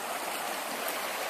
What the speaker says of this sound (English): how quickly the river's moving